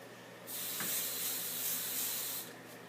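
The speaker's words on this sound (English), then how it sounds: "I'll just spray it." Hairspray hisses from an aerosol can onto styled hair in one continuous two-second burst, close and fairly quiet, with a faint tap near the start.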